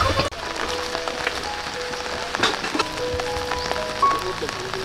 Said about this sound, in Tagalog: lalabas na tayo dahil sobrang ulan talaga dito